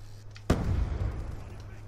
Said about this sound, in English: Bouncing Betty's everywhere.